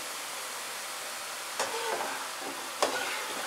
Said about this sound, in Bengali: আর আমাদের খুব সুন্দর বোঁদেগুলো ফ্রাই হচ্ছে।